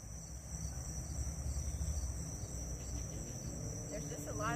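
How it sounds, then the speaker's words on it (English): Crickets or grasshoppers chirp outdoors in a steady, high, continuous buzz over a faint low rumble of open-air background noise. "There's a lot of crickets jumping out here."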